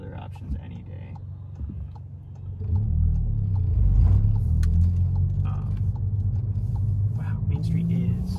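A VW Golf GTI Mk7 drives along at night, its engine and exhaust a low steady rumble that swells as it accelerates, with small interior clicks and creaks; someone talks over it throughout.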